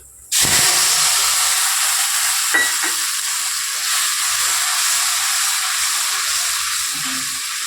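Mustard-poppy seed paste hits hot mustard oil seasoned with dried red chili and nigella seeds, setting off an abrupt, loud, close sizzle that holds steady as a dense hiss, with a faint clink partway through.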